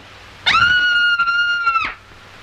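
A woman lets out one long, loud, sustained high scream in a 1948 radio mystery drama. It cuts in sharply, holds steady for about a second and a half, then stops abruptly.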